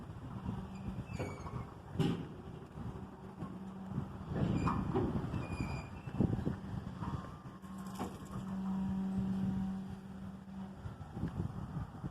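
The tail end of a long freight train rolls past a road crossing with low rumbling, wheel clatter and scattered clanks, moderately distant, swelling and fading over the passage.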